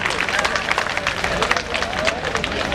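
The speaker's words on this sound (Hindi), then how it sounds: "श्री शकील मलिक जी स्वागत करते हुए जोरदार तालियां" Loud crowd applause welcoming a guest at a women's and party workers' gathering, continuous dense clapping from many hands with some background chatter throughout.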